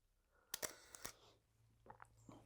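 Camera shutter firing a single test shot: a couple of sharp close mechanical clicks in quick succession, then quieter handling noises, faint overall.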